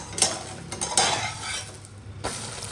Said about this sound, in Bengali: চলুন দেখাই ডিম ভাজা